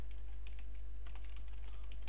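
Someone types on a computer keyboard, a quick, uneven run of close, light key clicks over a faint steady low hum, with no voices.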